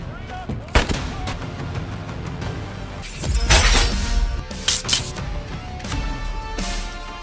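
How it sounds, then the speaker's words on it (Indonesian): Gunfire from a neighbor's shooting practice in a werewolf horror film: several loud, sharp blasts and booms at irregular intervals over a dense film soundtrack, with a voice faintly present. "ada satu tetangga samping rumahnya bernama Cody yang sedang latihan menembak"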